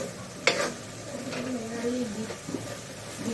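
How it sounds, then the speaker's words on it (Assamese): Steady stirring of a mustard mixture in a hot pan, with a soft scraping swirl over a low sizzle and one sharper knock of the utensil against the pan near the start, close and moderately quiet. "সৰিয়হখিনি ভালদৰে এনেকৈ মিলাই ল'লে ভাল লাগে"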